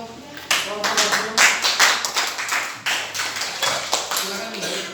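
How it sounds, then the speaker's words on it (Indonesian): A small group in a classroom or workshop claps for a presenting team, with distinct, uneven claps close by and a few sharp taps, not a full crowd. "Beri tepuk tangan untuk kelompok audio."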